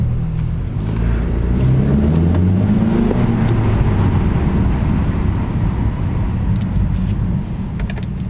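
Exhaust from a BMW 4 Series with a muffler delete rises in a revving sweep and then settles into a loud, rough drone inside a parking garage, with a few light clicks on top.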